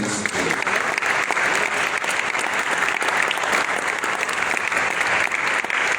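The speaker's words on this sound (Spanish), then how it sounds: "¿Por qué no les un aplauso a Cristo?" A congregation applauds during a church service, a dense, loud and continuous wash of many hands clapping that holds steady throughout with no pauses.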